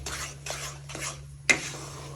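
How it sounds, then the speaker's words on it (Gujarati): Roasted fenugreek cooked in ghee is scraped out of a pan into a large vessel, giving three soft scraping strokes followed by a sharp metallic clink, close up and without talk. "હવે એને આપણે એક મોટા વાસણમાં કાઢી લઈશું"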